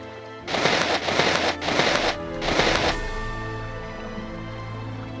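Water splashes during bathing in Morrowind's Tamriel Rebuilt, several loud close bursts of splashing in quick succession, then a calmer ambient tone.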